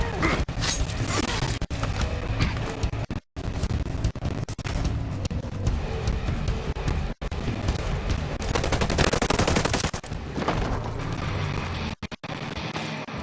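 A gunfight erupts in the video game Ghost Recon Breakpoint, with dense bursts of automatic rifle fire and shots layered loudly over one another, broken by a few brief silences near the end.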